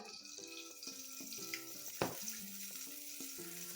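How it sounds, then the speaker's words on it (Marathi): Grated dry coconut roasting in ghee in a hot kadhai over a very low flame gives a soft, continuous sizzle with a single sharp clink midway, mixed with steady background music. "खोबरंही अगदी बारीक गॅसवर आपण भाजतोय"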